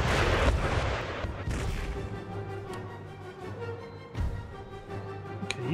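Rocket and artillery fire in Empire Total War, Italian States campaign: heavy booming blasts at the start, then a sustained rumbling low drone with scattered sharper shots and a few later bangs, fairly loud throughout, no talk.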